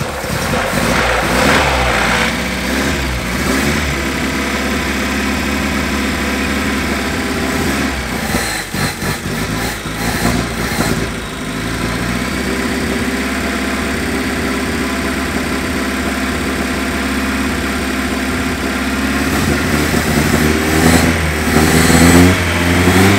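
A 1973 Datsun 620 pickup with a 1.6 liter engine runs steadily close by, a loud continuous idle broken by a rough patch near the middle and rising revs toward the end.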